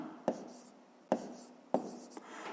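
Pen or pencil writing numbers by hand on paper, three distinct taps and short scratches at even intervals, close and quiet, with no talk.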